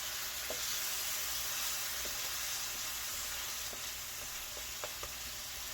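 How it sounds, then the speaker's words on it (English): A pan sizzles and fries steadily as it is deglazed while cooking pork chops, a continuous close hiss with a few soft clicks and pops scattered throughout. "Because I want to deglaze this a little."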